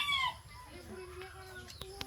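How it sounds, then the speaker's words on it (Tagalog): A captured rooster clucking softly nearby, a few short throaty clucks and a brief rising call over faint background noise. "Ito yung tandang."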